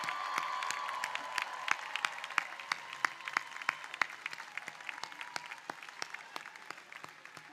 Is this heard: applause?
yes